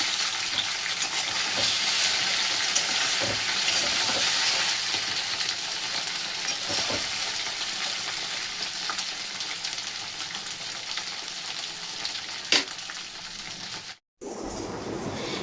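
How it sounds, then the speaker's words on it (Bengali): Potatoes fry in a pan with a loud, continuous sizzle that holds evenly throughout, broken by a couple of faint knocks and a brief dropout near the end. "দেখুন আলুগুলো খুব সুন্দর ভাজা হয়ে গেছে।"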